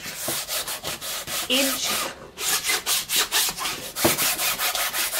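Sandpaper rubbed by hand over an old painted canvas to scuff off the paint, a steady series of rhythmic scratchy strokes, close and fairly loud, with a brief pause midway and a short spoken word.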